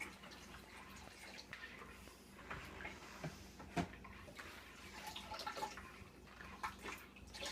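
Water running steadily into a container of dandelions being made into wine, a faint continuous pour with occasional drips and splashes throughout.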